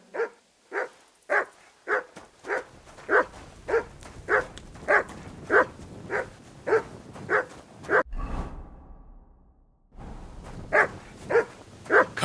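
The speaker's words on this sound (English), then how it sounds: "You silly doggy." A dog in the medieval role-playing game Kingdom Come: Deliverance II barks in a steady run of about fifteen loud, close, evenly spaced barks, broken by a short gap of rustling before the barking resumes.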